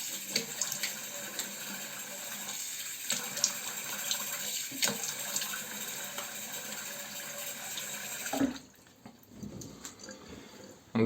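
A water tap runs steadily into a sink for a rinse after a wet shave with an open comb slant razor and tallow-based shaving soap, then cuts off near the end, leaving quiet handling noises.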